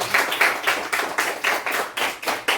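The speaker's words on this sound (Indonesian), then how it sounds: "Tepuk tangan untuk Agalena" A classroom group claps together in a quick, fairly even rhythm, about a dozen sharp strikes over a couple of seconds, close and lively.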